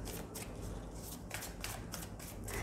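A deck of tarot cards being shuffled by hand, giving a soft, steady papery riffling with repeated brief flutters, close and quiet, with no talking.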